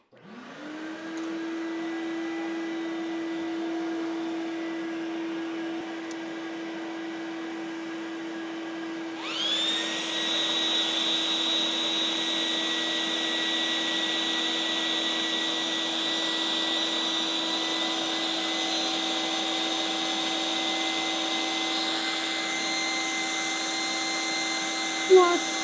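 A shop vacuum starts with a rising whine and runs steadily, then a second shop vacuum kicks in about midway, making the droning whine louder and higher.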